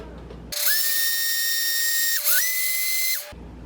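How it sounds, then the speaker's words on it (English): A blender whirs through crepe batter for about three seconds, a loud high motor whine that starts abruptly, dips briefly midway, then climbs again before cutting off. "I blended it for the 30 seconds that this recipe calls for"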